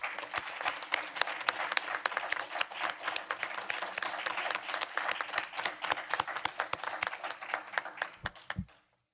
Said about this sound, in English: Can everyone give Trustee Soto one more round of applause?